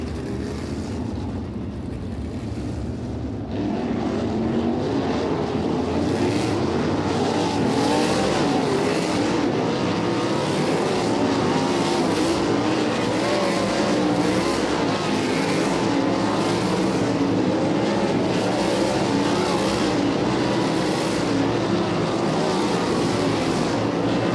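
Sprint cars roar around the Kokomo dirt oval during High Limit Sprint Series hot laps, a loud, continuous engine drone with repeated rising and falling passes, quieter for the first few seconds before the field comes up to speed.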